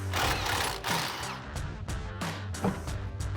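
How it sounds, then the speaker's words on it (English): A 16mm deep socket on a power tool buzzes continuously with rattling pulses as it removes the factory nut from a sway bar end link on a Ram 1500 front suspension, close and steady with no talking. "grab a 16mm deep socket, and we're gonna remove the factory nut off of our sway bar end link"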